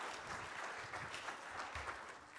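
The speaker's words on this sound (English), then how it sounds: "Let's give her another round of applause." Audience applause at a magic show, a steady, dense wash of many hands clapping at once, sustained and even throughout with no voices over it.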